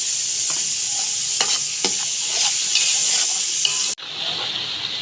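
Garlic paste and cumin seeds frying in a pan, a steady close sizzle with scattered pops and stirring scrapes throughout, cut off sharply near the end before the hiss resumes at a lower level.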